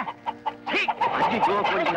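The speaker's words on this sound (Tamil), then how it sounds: "நம்ம கொண்டாந்த பையில தான் கோழி இருக்கு மாமா." A chicken shut inside a bag clucks in a string of short, close, muffled bursts, rising into a louder, busier run of agitated clucks partway through, with no talking.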